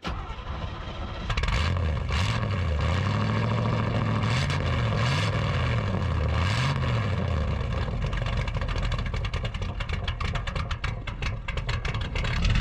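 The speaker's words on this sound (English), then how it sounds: "single exhaust straight pipe on a small block" A pickup engine cranks and starts, then a loud, raw small-block V8 with a single straight-pipe exhaust idles and revs with a deep rumble and a few throttle blips.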